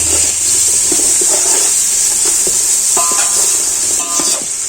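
Onions, ginger and turmeric sizzle loudly in a hot pan while being stirred, a steady close hiss with scattered scraping clinks of the spoon against the pan.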